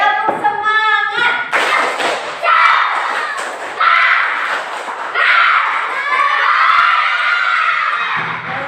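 Schoolchildren in an Indonesian classroom perform the rhythmic 'tepuk semangat' spirit clap, with loud bursts of clapping and shouted chanting in several waves, mixed with a teacher's voice.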